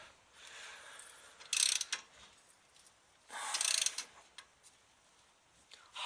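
A socket wrench ratcheting while torquing front hub bolts on a 1998 Dodge Ram 1500 4x4, heard as two bursts of quick metallic clicking with lighter ticks and scraping between them.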